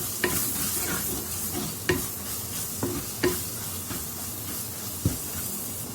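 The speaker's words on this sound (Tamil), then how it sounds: "நம்ம நல்லா வதக்கி விட்டுறலாம்." Ground spices and a pinch of pepper are stirred and sautéed in a hot pan for ayilai fish curry, giving a steady close sizzle with a few sharp scrapes and taps of the spoon and no talking.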